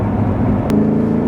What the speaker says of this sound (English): for a V8, this thing sounds absolutely amazing